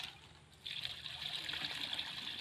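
Water poured into an emamectin pesticide mix for a spray machine: a steady, close trickling stream begins after a short quiet moment and runs on evenly with no talk.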